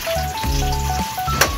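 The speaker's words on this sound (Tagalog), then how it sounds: "parang ipiprito lang natin muna siya" Squid balls sizzle as they fry in a pan, a steady close crackle that runs under a low tonal hum throughout.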